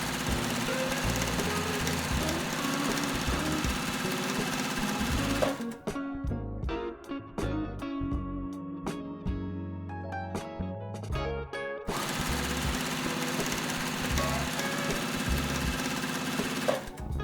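A sewing machine stitches rows of a quilt block together in a steady, loud mechanical whirr, running continuously with only a brief change in pace midway.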